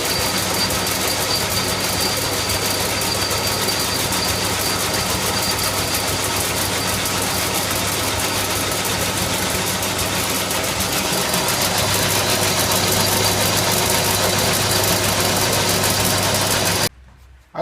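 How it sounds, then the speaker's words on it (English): A lathe turns down a steel shaft for a BMW R80 cafe racer motorcycle, a continuous loud motor drone with a steady cutting hiss that runs unbroken before stopping abruptly near the end. "It's cut down really well actually with my lathe."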